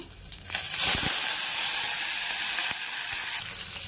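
Tempering spices of cumin seeds, curry leaves and coriander crackling in hot oil in a pan, a loud, steady, close sizzle with a brief burst near the start and a sharp pop partway through.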